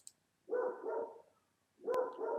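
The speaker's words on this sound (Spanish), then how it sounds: "disculpen el ladrido del perro" A dog barks in two bursts, with a short pause between them, fairly close and loud, with no other sounds around it.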